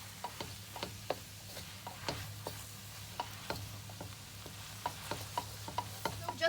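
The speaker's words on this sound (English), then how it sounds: "now we're going to add the noodles, and we're just going to mix those" Noodles with caramelised shrimp being stir-fried and mixed in a pan, a low sizzle under a run of sharp, regular utensil taps and scrapes, fairly quiet with no voices.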